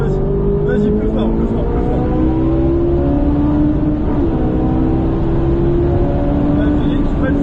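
A Ferrari 458 Italia on a circuit at Trappes, its engine loud and close as it accelerates, with the pitch sweeping up and easing back in waves while an instructor talks over it throughout.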